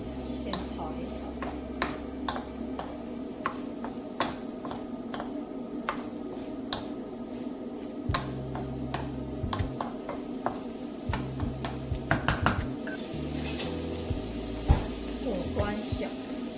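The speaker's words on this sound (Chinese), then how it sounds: "再先炒一炒" Cauliflower and pork being stir-fried in a pan, with steady sizzling and scattered scraping clicks of a utensil against the pan, loud and close, plus a low hum through much of it.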